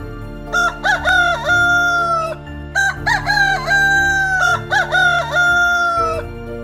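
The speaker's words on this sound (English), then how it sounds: "rooster." A rooster crows loudly and close, several long cock-a-doodle-doo calls in a row with short gaps, alone against faint background music.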